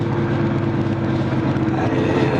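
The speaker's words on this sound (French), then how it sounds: "Il y a des fois, on se demande si le moteur s'est pas arrêté." Steady, muffled engine drone of a soundproofed, thermally insulated truck heard from inside the cab while driving on a road, a low even hum with no speech over it.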